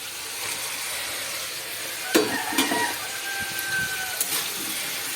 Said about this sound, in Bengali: একটু ভালো করে মিশিয়ে নেবো, সাথে ভেজে নেব।